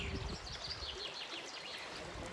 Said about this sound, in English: And we got to the stream.